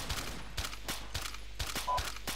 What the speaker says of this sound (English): Shots fired. Returning fire.